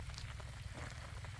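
Rain patters steadily on an umbrella and a mobile phone at the start of the rainy season in a Gujarat village, a faint, dense crackle with no voices.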